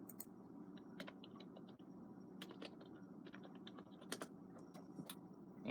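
Password typed on a computer keyboard during a Linux Mint install on a Dell Dimension E510: quiet, irregular key clicks in short bursts over a low background hum.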